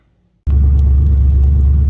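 A turbocharged LS1 Camaro drag car on E85 fuel starts and settles into a loud, steady idle after a short silence, with a deep, even rumble and no voices.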